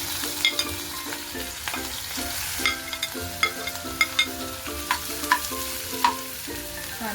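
Onion and chili frying in a pan with a steady crackling sizzle, while a spatula scrapes and taps the pan in an irregular stirring rhythm, close and fairly loud.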